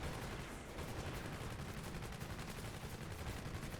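Sustained automatic weapon fire from a mounted machine gun in a first-person action video game, a dense continuous rattle that stays loud and steady throughout with no pauses.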